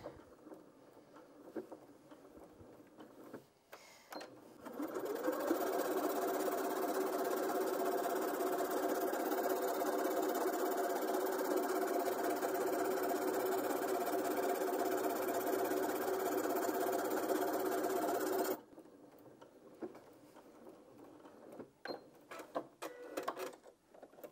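A Janome M200QDC sewing machine starts up with a rising whine, then runs a long, even stretch of fast stitching with a steady hum before stopping abruptly, followed by quiet handling sounds.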